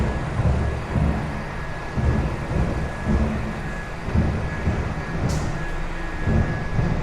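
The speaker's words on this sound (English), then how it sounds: "let me wait for this train to come to a stop." A Brooklyn subway train rumbles as it slows to a stop, a continuous low roar with periodic surges and a faint steady whine, with no talking.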